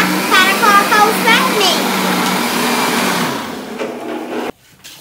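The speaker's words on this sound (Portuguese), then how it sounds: "após um tempinho no liquidificador, vamos desligar" Kitchen blender mixing cake batter, a loud steady whirring drone that slows and switches off near the end, leaving a short quiet gap, with a voice heard over the motor early on.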